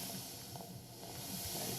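A continuous soft hiss of steam in the video game Daria's Inferno, quiet and unbroken, with a faint rhythmic low thrum underneath and no voices.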